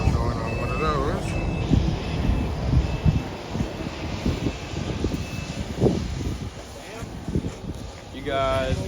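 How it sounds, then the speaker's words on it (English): A steady helicopter engine roar runs throughout beneath people talking nearby in Juneau, Alaska, with a high whine above. "There's the helicopter."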